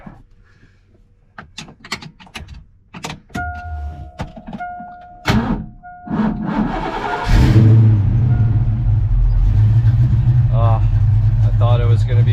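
A Ford Foxbody Mustang's engine is cranked and fires up after clicks and a few chimes, settling into a steady loud idle, with a voice speaking nearby.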